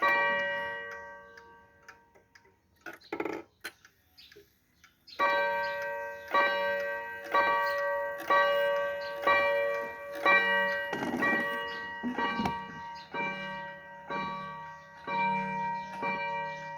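Vintage Seiko wind-up wall clock ticking softly, then striking a run of about nine deep, resonant chimes at a steady pace, close up with some handling noise between strikes.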